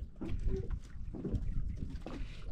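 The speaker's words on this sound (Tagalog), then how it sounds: "Ingay na isang bangka na yan" A passing boat on open water gives a low, rumbling engine drone with wind buffeting the microphone, steady and fairly close throughout the short stretch, with no talk.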